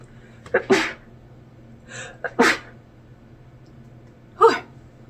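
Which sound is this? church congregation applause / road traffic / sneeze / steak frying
sneeze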